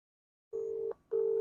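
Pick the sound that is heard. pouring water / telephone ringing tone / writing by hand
telephone ringing tone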